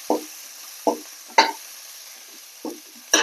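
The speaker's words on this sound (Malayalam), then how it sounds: "രണ്ട് സ്പൂൺ സാമ്പാർ പൊടി നന്നായിട്ട് വറുത്തെടുക്കാം" Sambar powder is stirred and roasted in a pan, with five short, scraping strokes of a spoon against the pan at uneven intervals and a faint sizzle between them.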